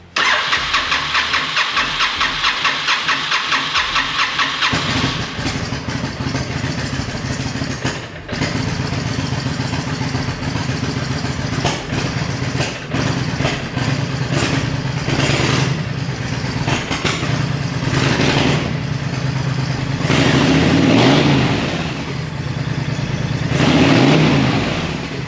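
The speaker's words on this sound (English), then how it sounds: "This is take 2 of trying to get this bike running." Honda VTX motorcycle engine cranking, then catching and running steadily after a carburetor cleaning, loud and close, with blips of revving later on.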